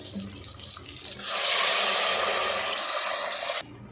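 After a moment of low background noise, water gushes into a pressure cooker for ghee rice in a loud steady pour for a couple of seconds, then cuts off abruptly.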